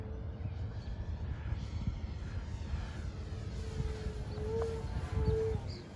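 An E-flite Super Timber 1.7m RC airplane in flight, its electric motor giving a steady distant drone at moderate volume that rises and falls slightly as it passes, with no talking.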